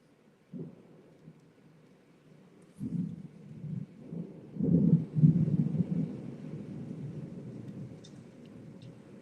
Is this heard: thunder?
yes